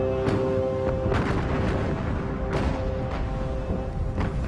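Battleship guns fire shells in a naval battle against the Bismarck, heard as a run of heavy booming blasts about half a second to a second apart, dense and rumbling, with a faint tone humming underneath.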